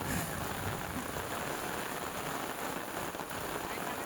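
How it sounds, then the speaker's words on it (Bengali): Heavy rain pours steadily on a river during fishing with a ring net, a dense, even hiss and patter of drops that fills the whole stretch without letting up; no voices are heard. "অনেক বৃষ্টি"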